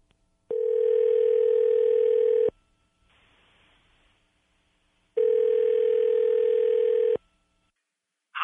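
A telephone line tone sounding loud and close in two sustained steady bursts of about two seconds each, separated by a quiet hissy gap, with no voices.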